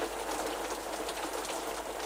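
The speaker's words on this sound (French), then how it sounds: "Il pleut des cordes dehors" Heavy rain pours outside as a dense, steady hiss that fills the whole stretch with no let-up and no voices.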